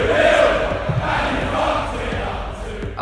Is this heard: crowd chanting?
yes